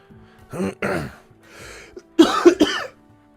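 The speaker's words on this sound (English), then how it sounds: "I have been coughing so much" Several harsh coughs in short bursts, a pair early and a tighter cluster later, close up with quiet gaps between.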